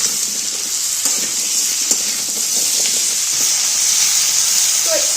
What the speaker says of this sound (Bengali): সবজিটাও প্রথমে অল্প একটু ভাজা ভাজা করে নেবো